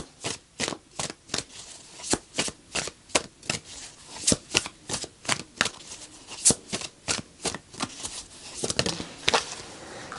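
A deck of tarot cards is riffled and shuffled over and over during a reading, giving a steady run of crisp, close flapping bursts about twice a second with no talk.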